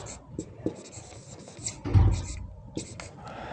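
Chalk or a marker writes across a board in short scratchy strokes and taps, close and moderately loud, with a brief soft thump partway through.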